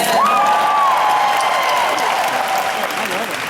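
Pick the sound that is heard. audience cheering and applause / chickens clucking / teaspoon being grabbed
audience cheering and applause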